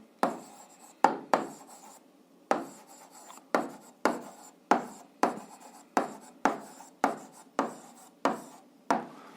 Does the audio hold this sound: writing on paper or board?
yes